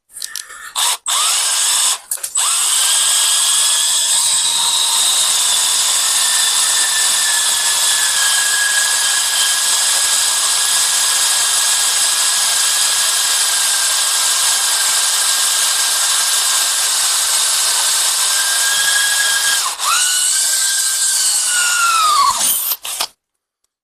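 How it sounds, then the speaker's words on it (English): A power drill bores steadily through metal during the setup of an Ibex TX45 drum mower and RK25 tractor, a loud sustained whine holding one pitch for about seventeen seconds, with short bursts at the start and a falling wind-down at the end. "whenever you're drilling metal"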